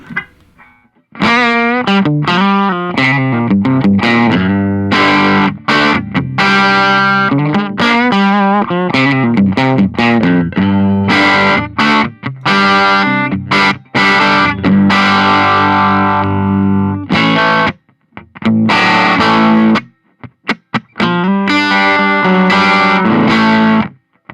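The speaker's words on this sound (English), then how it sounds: "you can hear it gets that Marshall tone that just on the verge of breakup" Electric guitar through a Marshall Class 5 small tube amp on the verge of breakup, slightly overdriven gritty tone, strummed and picked phrases with short pauses, loud and close.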